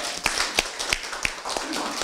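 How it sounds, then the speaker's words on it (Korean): Sparse, rhythmic clapping at a Democratic Party of Korea joint meeting, roughly evenly spaced sharp claps over a hum of room noise, fairly faint and thin rather than a full applause. "큰 박수를 부탁드립니다."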